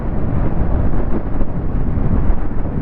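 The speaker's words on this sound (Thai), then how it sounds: "โอ้ลมแรงว่ะ" Strong wind roars steadily against the microphone while a Yamaha Grand Filano Hybrid scooter with a 54 mm piston is ridden at speed on a rough road, a loud continuous low rumble with no speech.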